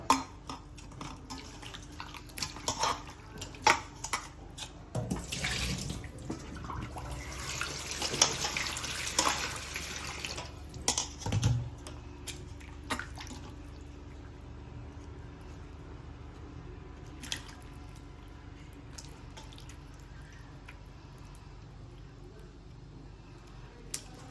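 Running water poured and splashed while dried fish is washed by hand, busiest early on, then settling into quieter trickles and drips.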